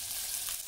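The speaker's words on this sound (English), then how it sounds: "to fry this bean curd to golden brown" Bean curd frying in a pan, a brief, steady hiss of sizzling oil heard close up and alone.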